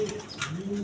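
Healthy pigeons give a short, soft coo, close and alone, a low throaty call lasting under a second.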